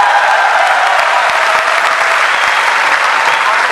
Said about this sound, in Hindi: अब ताली तो बहुत अच्छी है आपकी